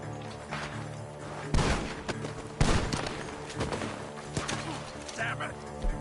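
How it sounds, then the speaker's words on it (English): Gunfire from a barn in Red Dead Redemption 2: two sharp, loud shots about a second apart, then smaller thuds against a steady game ambience, with a voice speaking faintly underneath. "The gunshots are coming from that barn!"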